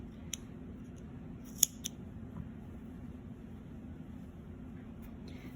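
Scissors snipping off a crochet yarn end, a few quick, crisp cuts close by against a quiet background.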